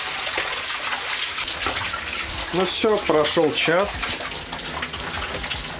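Running water from a shower rinsing a photographic print in a home darkroom during black-and-white printing, a steady broadband wash throughout with a person speaking over it midway.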